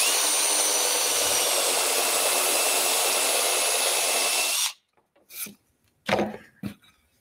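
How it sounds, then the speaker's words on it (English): A power drill bores a shallow hole into a wooden heart craft piece, giving a loud, steady whine for several seconds before stopping abruptly, followed by a few brief knocks and handling sounds. "We just want to punch a little hole in here and not go all the way through."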